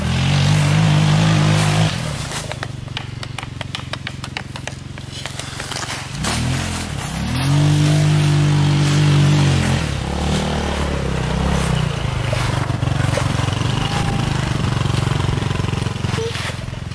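Go-kart engine on an uphill dirt trail in the woods, droning steadily then rising in pitch through two clear revs as it pulls away, loud and close throughout.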